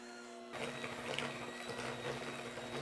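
An electric mixer whirs into creamed butter with egg and milk, starting abruptly after a brief quiet moment and then running as a steady, faint mechanical whir with a light rattle.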